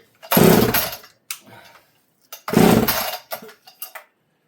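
A Partner P42 cut-off saw engine fires in two loud, roughly one-second bursts, each followed by short sputters and coughs before dying back to quiet, close up and with no talk.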